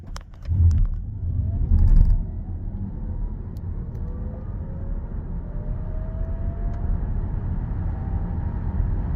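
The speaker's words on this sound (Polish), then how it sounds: "Zrobiłem też pomiar do setki na samym prądzie i oto rezultat." A 2025 Skoda Superb Combi plug-in hybrid accelerates from a standstill on electric power alone, a brief rumbling thump, then a smooth rising electric whine climbing steadily as speed builds, no engine roar.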